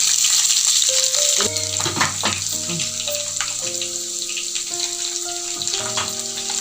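Chopped garlic goes into hot oil with curry leaves for a potato pickle, giving a steady, bright sizzle beneath background music with melodic tones, with no talking.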